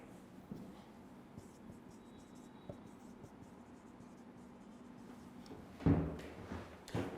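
Marker or chalk writing on a board during a chemistry lecture: quiet scattered scratchy strokes and light taps in a room, with a louder knock or board bump near the end.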